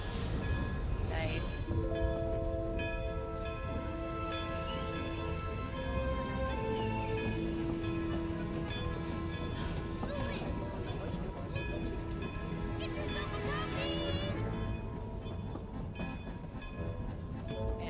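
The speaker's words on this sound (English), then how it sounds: "Here's my train." A train arrives and keeps running in the video game Genshin Impact, a continuous loud rumble with rhythmic rail clatter and sustained horn-like tones, while a person speaks over it.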